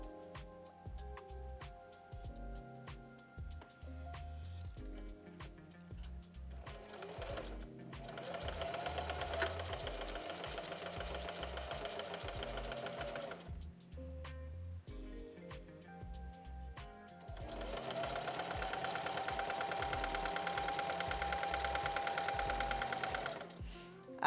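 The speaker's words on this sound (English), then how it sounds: "we're just stitching a straight line" A sewing machine runs a straight line of stitches on quilt fabric in two long, steady bursts of rapid mechanical whirring, close and clear, with a short pause between them.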